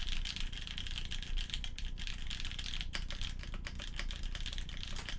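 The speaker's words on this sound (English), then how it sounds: "Yeah, I'm typing. I can type fine." Rapid, steady typing on a loud, echoey mechanical keyboard from a SKB65 custom build, dense clacking keystrokes running continuously and up close, with no talking over it.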